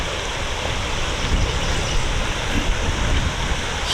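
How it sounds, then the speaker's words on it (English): Strong wind sweeps across a lakeside campground among cypress trees, a steady broadband roar close to the microphone with gusty buffeting throughout and no voices. "This is so windy over here"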